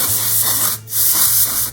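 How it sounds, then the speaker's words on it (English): Two close bursts of compressed air hissing from a can onto a newly built budget mechanical keyboard, separated by a short pause. "I'm gonna use some canned air and make sure it's clean"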